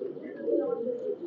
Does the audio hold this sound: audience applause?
no